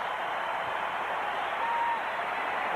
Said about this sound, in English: the crowd enjoyed the ball movement on that sequence